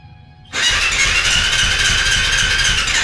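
A motorcycle starter cranks at home: after half a second of near quiet, a loud, dense churning roar kicks in and holds steady to the end.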